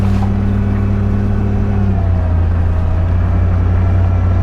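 Land Rover Discovery engine idling and pulling through a tight U-turn, a loud, steady low drone that shifts pitch slightly partway through as the revs change, close up with no talk.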